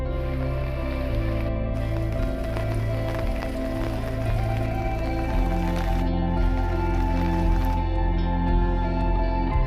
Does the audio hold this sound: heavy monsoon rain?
yes